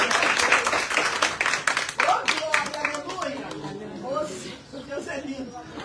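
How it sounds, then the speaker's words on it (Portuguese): A church congregation bursts into applause during a worship service, a dense wash of clapping that fades after a couple of seconds as a voice carries on speaking. "Aplauda o Senhor."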